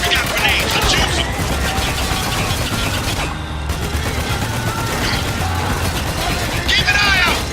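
Dense gunfire in the war shooter Spec Ops The Line, a continuous loud barrage of rapid shots and mechanical clatter throughout, with voices shouting over the combat.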